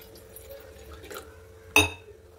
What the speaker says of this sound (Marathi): गॅस तापत ठेवायचा आहे. त्याच्यामध्ये टाकायचे पाणी.